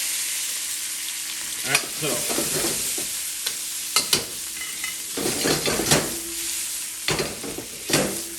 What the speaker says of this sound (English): So we want to stir fry this for about 3 to 4 minutes.